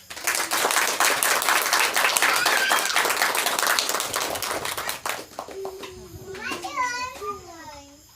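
A church congregation claps in praise of the Lamb of God, a dense burst of hand clapping that fades after about five seconds as a voice begins speaking over the tail.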